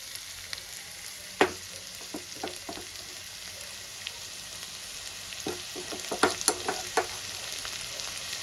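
Ginger, garlic and green chilli paste frying in a pan for palak rice: a quiet, even sizzle with scattered spoon taps and clinks that bunch together toward the end.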